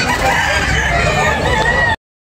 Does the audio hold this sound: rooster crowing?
yes